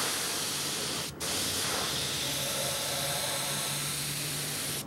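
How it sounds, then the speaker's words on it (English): An airbrush sprays paint in a continuous close hiss, broken by one brief pause before the spray resumes steadily. "See, I can fill in with this brush, with this airbrush, I can fill in a lot easier."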